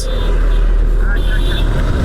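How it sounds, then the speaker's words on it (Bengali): Steady motorcycle engine drone with road and wind rumble while riding on the Dhamrai to Kaliakair road in Bangladesh, a voice talking over it close by. "আসলাম বস বাইক চালাইতেছি বস"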